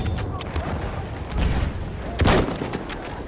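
Machine gun fire in Battlefield 1 on a World War I battlefield, rapid bursts mixed with distant booms and battle ambience, fairly loud and continuous throughout.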